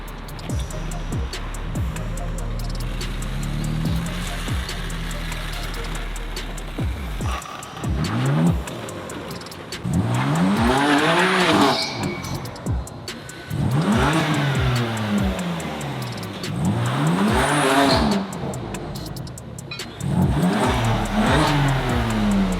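A wrecked 2015 BMW M4 being driven inside revs its engine in repeated rising and falling bursts, loud and close, after a low steady idle.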